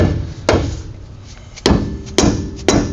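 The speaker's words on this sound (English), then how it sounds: "smack that around a little bit with the hammer" A rubber hammer taps a wheel hub assembly on a passenger-side Ram 1500 axle in four sharp, close, separate knocks spaced irregularly over a few seconds.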